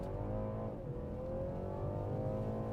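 A car engine in sport mode, driven through heavy rain in the Lake District, rises in a steady drone as the revs climb. The sound is fairly quiet and muffled, as if from inside the cabin.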